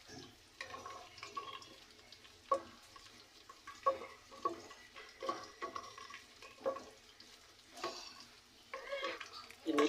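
Black pepper and other whole spices frying in a pan with a faint sizzle, broken by intermittent clinks and scrapes of a spoon stirring, quiet and close.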